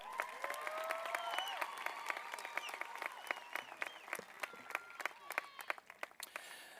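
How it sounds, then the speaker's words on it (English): Audience applause for a high school choir at a 2023 graduation ceremony, steady clapping from a large crowd with sharp individual claps standing out, while a voice speaks over it. "Another round of applause for the Martin Luther King High School Choir."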